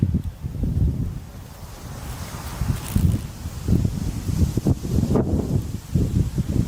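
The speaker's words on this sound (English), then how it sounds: "And that wind is really picking up tonight." Wind gusts across a campsite at night, a rough, rumbling roar that swells and fades unevenly, with some rustling and buffeting against the microphone. No one speaks.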